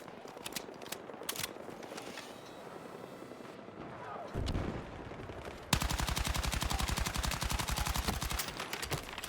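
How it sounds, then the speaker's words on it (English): Enemy gunfire in the tactical shooter Ready or Not: scattered single shots at first, then a sudden loud, sustained stream of rapid automatic fire with fast, evenly spaced cracks to the end. "They're shooting at me."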